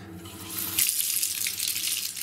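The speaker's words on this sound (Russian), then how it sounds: "Воду включаю теплую," A tap starts running warm water, and after a brief moment of quiet a close, steady splashing rush fills the rest of the moment.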